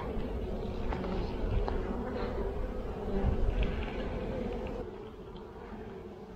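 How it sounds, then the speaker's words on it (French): Honeybees work at an open hive in spring, their dense, steady buzzing close and constant, with a few louder passes before it eases slightly near the end. "Donc là, les abeilles travaillent vraiment beaucoup."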